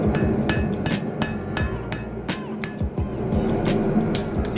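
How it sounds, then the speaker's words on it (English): Rapid, evenly spaced metallic hammer blows ring out as a hot Damascus steel chef's knife blade is forged, a dozen or so strikes over a steady roaring forge background, with no talking. "and just hammer that curve downwards"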